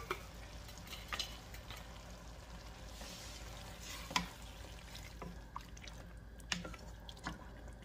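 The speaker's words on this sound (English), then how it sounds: "Okay, so I'm going to give it a stir." Tomato pasta sauce stirred in a pan: a steady low bubbling simmer with soft scraping spoon strokes and a few sharper clicks against the pan, close and alone with no talk.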